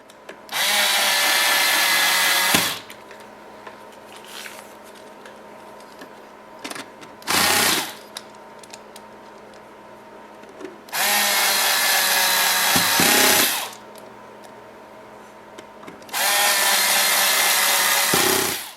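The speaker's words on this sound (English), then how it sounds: "I'm using an automatic screwdriver here with a detent so that you don't over tighten into the plastic." An automatic screwdriver drives screws into the plastic back panel of a Sony AX7000 radio in four loud, whirring bursts of two to three seconds each, separated by quieter handling and clicks.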